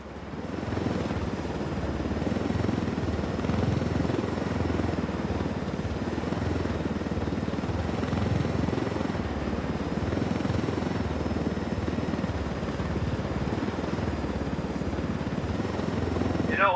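A helicopter in Ghost Recon Wildlands runs at close range, its rotor and engine drone steady and loud throughout, with a faint high whine riding on top and no talk.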